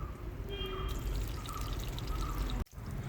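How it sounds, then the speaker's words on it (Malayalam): Hot oil tempering of fried shallots, curry leaves and dried red chillies pours into a pot of koorka curry with a steady close sizzle and splash, ending in a short sharp hiss and clatter. "ഇനി നമുക്കിത് കറിയിലേക്ക് ഒഴിച്ചു കൊടുക്കാം"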